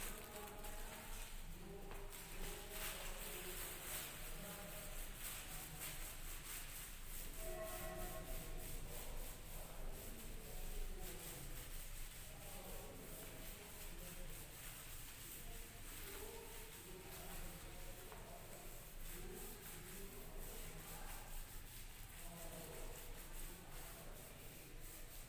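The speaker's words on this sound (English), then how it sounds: "let me rub it and write down the next question for you" Writing being rubbed out on a classroom board, a steady faint scrubbing and rubbing sound continuing throughout, quiet and alone without talk.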